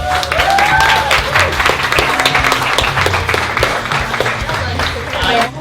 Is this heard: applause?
yes